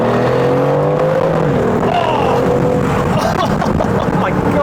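A 2023 Aston Martin Vantage F1 Edition with a turbocharged engine accelerating, a loud, steady engine note that rises in pitch and holds strong for several seconds without pause.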